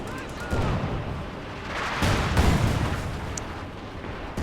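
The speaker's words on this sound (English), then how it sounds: "More artillery's going down." Artillery fire and explosions boom and rumble across a battlefield in Company of Heroes 2, with heavy blasts at the start, a louder cluster of impacts midway, and steady rolling explosive noise throughout.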